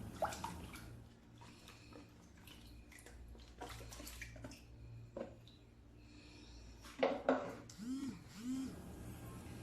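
Fish washed by hand in salted water for bagoong, with close splashing, sloshing and dripping in irregular bursts that grow livelier near the end, and no talk.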